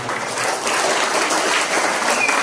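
An audience at a school handover ceremony breaks into steady, loud applause, a dense continuous wash of many hands clapping with no talk over it.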